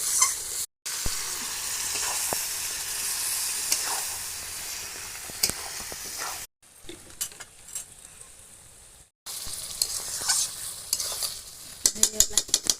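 Vegetables frying in a pot on a stove while being stirred, a loud continuous sizzle with scraping stir strokes, broken by two brief silences, with sharp clinks near the end.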